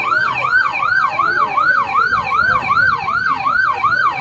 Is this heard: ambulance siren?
yes